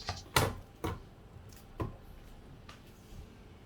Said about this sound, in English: I'll cut out a shallot for you. Okay, it's not a shallot, it's red onion.